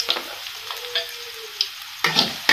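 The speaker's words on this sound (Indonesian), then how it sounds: "Kita masukkan 2 bawang. Bawang merah masuk. Bawang putih masuk." Chopped shallots and garlic sizzling in hot oil in a pan while cooking yellow noodles, a steady soft frying hiss with scattered crackles and a louder burst of stirring near the end, heard close with no talking.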